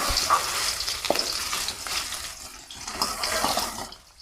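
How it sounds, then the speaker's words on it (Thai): Minced pork stir-fries in hot oil, making a steady close sizzle and crackle with brief scraping stirs and no voices. "นำหมูสับเนี่ยลงไปผัดให้สุกก่อนนะคะ"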